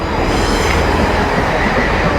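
A British passenger train at a station platform gives a loud, steady, close rumble of rolling wheels and machinery for the whole stretch, with no talk.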